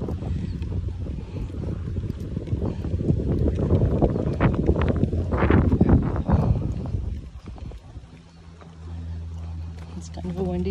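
Wind gusting and buffeting the microphone while riding an Arabian horse, rumbling roughly and swelling mid-way before easing, with hoof thuds and a rider talking throughout.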